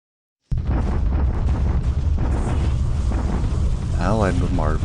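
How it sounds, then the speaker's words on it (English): Allied artillery bombardment at Vigan on Luzon in a war strategy game: a sudden loud roar of blasts bursts in and holds as a dense, continuous rumble, with a warbling tonal sound near the end. "Allied bombardment at Vigan."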